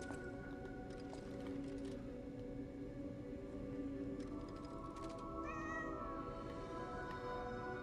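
A cat meows in the Lies of P video game, a few faint drawn-out mews rising near the end over a dense, steady ambient background with no talking.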